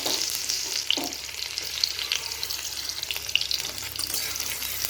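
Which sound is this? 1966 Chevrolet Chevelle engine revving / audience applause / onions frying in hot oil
onions frying in hot oil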